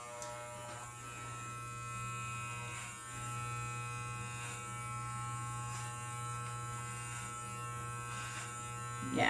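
Electric hair clippers buzzing steadily through a home hair buzz cut, a constant close hum running nearly unbroken for about nine seconds with slight shifts as the clipper moves across the head.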